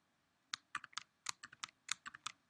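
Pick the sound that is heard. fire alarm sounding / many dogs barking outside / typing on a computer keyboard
typing on a computer keyboard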